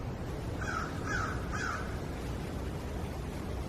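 A crow calls outdoors in three harsh caws spaced about half a second apart, moderately near, over a steady background hiss of open air.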